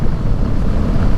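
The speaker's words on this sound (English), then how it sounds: "It's a little windy out here though." Steady wind buffets the microphone with a low, continuous rumble outdoors in Henderson Flats, Oregon, with no voices and no breaks.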